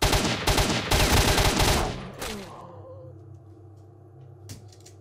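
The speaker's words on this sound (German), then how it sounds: "Wie oft schießen die auf mich?" Enemy gunfire in the video game STALKER: Shadow of Chernobyl: a loud, dense burst of rapid rifle shots for about two seconds, then fading rumbling echoes and one more isolated shot.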